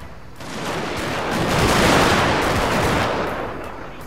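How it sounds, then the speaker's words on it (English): Massed musket volley fire from kneeling infantry in Total War: Shogun 2 Fall of the Samurai, a dense, crackling roll of overlapping shots that swells to a peak and then eases, loud and without speech. "I'm ordering kneel fire."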